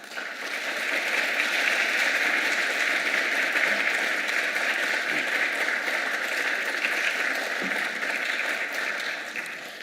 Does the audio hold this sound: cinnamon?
no